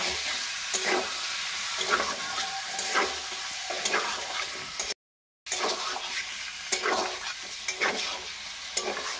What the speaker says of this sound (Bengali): গ্যাসের ফ্লেমটা লোতে রেখে হালকা করে এটা ভেজে নেব।